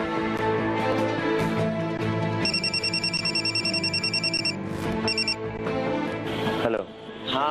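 A phone rings with a trilling electronic bell tone in two bursts, set against a busy bed of music and other sound.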